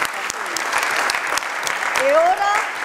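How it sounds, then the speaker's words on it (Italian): Audience applause at an evening festival event in Martina Franca, a steady, full round of clapping throughout, with a voice rising briefly above it near the end. "un grandissimo applauso da parte della città di Martina Franca alla signora Elena Anticoli De Curtis"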